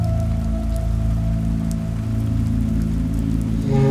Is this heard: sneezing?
no